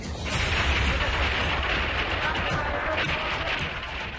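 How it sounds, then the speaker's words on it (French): Dense, continuous gunfire rattles loudly and steadily throughout, a rough barrage of shots without pauses. "Et puis, les premiers coups de feu."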